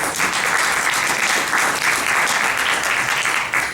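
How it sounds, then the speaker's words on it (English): An audience gives a big round of applause for a panel at a race relations and education event, dense continuous clapping from many hands, loud and even from start to end with no talk. "Let's give our panel a big round of applause"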